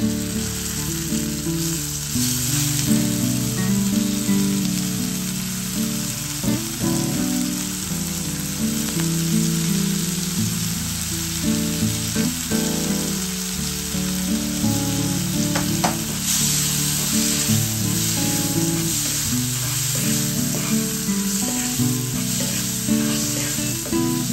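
Small chopped shrimp and cauliflower stems fry vigorously in a pan, a loud unbroken sizzle and crackle heard up close, stirred throughout, with no talking.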